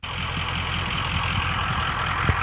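Ford F250 pickup truck engine idling after starting, a steady close low rumble with a faint mechanical tick, no voices.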